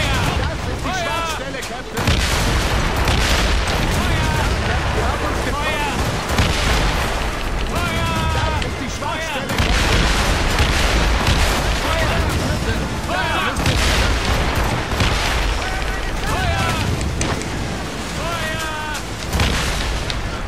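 Cannon fire booms repeatedly in Assassin's Creed Rogue, a dense, loud barrage of naval-battle blasts and rumbles that continues almost unbroken, with someone talking over it.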